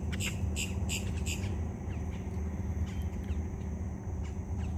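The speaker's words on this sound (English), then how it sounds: "There's birds everywhere." Several harsh bird squawks ring out early, then scattered calls continue over a steady low outdoor rumble, fairly close and moderately loud.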